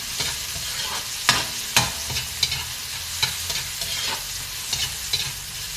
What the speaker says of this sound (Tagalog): Durugin natin kamatis at lutuin.